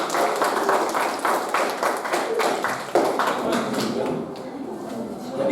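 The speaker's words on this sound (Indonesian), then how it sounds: "Oke, kita berikan tepuk tangan." Classroom audience applauds after a student group presentation, a few seconds of close, rhythmic clapping from a small group that thins out toward the end, with voices mixed in.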